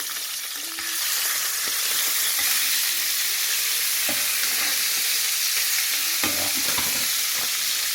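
Seasoned mackerel fillets frying in a hot pan give a loud, steady sizzle and hiss, with a few soft clinks and scrapes of a utensil against the pan.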